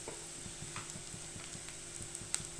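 Orange peel sautés in a pan with a soft, steady sizzle and light rhythmic stirring clicks, quiet and close.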